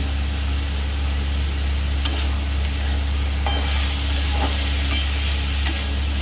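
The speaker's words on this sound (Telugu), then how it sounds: "మధ్యలో ఆనియన్స్ కలుపుతూ ఉండాలండి" Onions with salt being stirred and fried in a pan for a gongura prawn curry, a steady close sizzle with scraping stir strokes at intervals and a low hum beneath.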